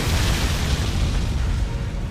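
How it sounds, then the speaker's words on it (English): An explosion in the video game Tsukihime: A Piece of Blue Glass Moon roars as a dense, sustained rumbling blast with a heavy low-end wash that slowly fades. "a sudden explosion consumes her perch"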